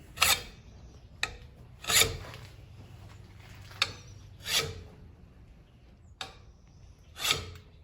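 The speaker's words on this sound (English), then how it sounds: "make sure you're getting it smooth with the fine side of the file" A hand file sharpens a lawn mower blade in slow, rasping strokes, about five strong scrapes interleaved with lighter return passes in a steady rhythm, close and clear with no talking.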